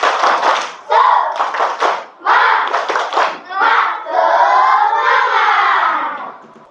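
Schoolchildren in a classroom perform a rhythmic spirit clap with group chanting, loud and close, in bursts that build into sustained shouting voices.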